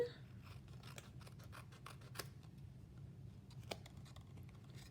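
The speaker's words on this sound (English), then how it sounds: "I'll do a little more trimming." Scissors snip through decorative patterned paper in a quiet series of short, crisp cuts close up, with faint scratchy rustling between them and no voices.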